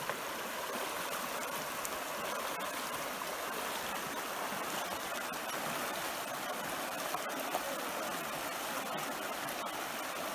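A fast, icy river being crossed on foot along the Alexandra River in Banff National Park, a steady, full rush of flowing water close by, broadband and unbroken with no voices.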